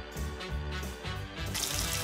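Water is poured from a cup over a Cairn Terrier puppy during its bath, a soft, close splashing trickle that runs through most of the moment, quiet and alone without voices.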